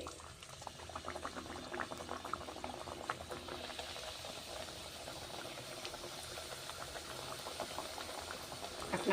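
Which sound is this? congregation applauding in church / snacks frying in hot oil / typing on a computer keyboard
snacks frying in hot oil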